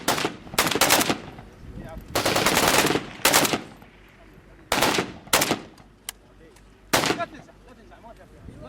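Machine gun fire on a shooting range comes in several loud, close bursts of rapid shots, separated by short pauses, with one isolated single shot in between.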